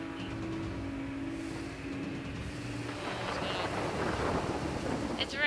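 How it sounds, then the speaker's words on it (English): Steady rain in the video game Far Cry Primal hisses over a low rumbling, thunder-like backdrop and grows slightly stronger toward the end, heard at moderate volume with no talking. "It's raining."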